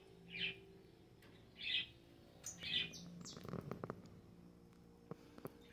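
A female canary chirps in short, bright bursts, three distinct calls spaced about a second apart, followed by soft rustling and a few faint clicks in a quiet aviary.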